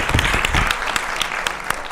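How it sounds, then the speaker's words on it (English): Audience applause at a community event on violence against women and girls, a dense, steady patter of many hands clapping loudly with sharp individual claps standing out throughout. "So please give her a round of applause."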